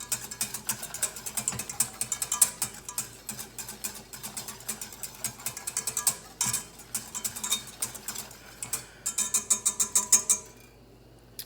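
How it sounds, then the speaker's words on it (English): A whisk beats rapidly against a metal pot while vanilla is stirred into heating milk for pastry cream, a steady clattering, scraping rhythm close by that stops abruptly near the end. "What you're looking is to incorporate the vanilla in the milk. That's why I keep the whisking, for it not to burn on the bottom."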